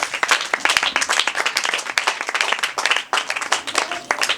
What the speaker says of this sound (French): applaudissez à votre coordinatrice